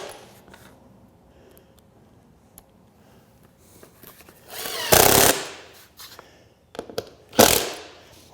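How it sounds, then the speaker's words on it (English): A power driver sends screws into a wooden strongback for a boat mold, two short loud bursts of whirring and grinding separated by quieter handling clicks and taps nearby. "put a couple of screws in here just to hold it"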